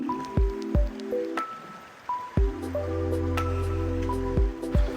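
Water drips and trickles inside a cave with an underground river, clear close drops and plinks falling irregularly over a low running-water bed, with a steadier gurgling rush building in the second half.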